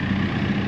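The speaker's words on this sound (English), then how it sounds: "Oh, that tractor." A tractor engine rumbles steadily at idle nearby, a low continuous drone with no voices over it, in a rural community in East St Thomas, Jamaica.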